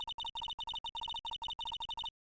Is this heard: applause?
no